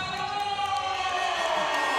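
An arena crowd roars and cheers steadily during a women's 68 kg wrestling bronze medal match between Szabados of Hungary and Strzalka of Poland, a continuous loud wash of voices with a commentator talking over it.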